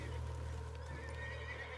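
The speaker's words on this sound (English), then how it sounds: "What's got this horse spook" A spooked horse in Red Dead gives a loud, drawn-out whinny, with a light clip-clop of hooves underneath, close by and with no voices.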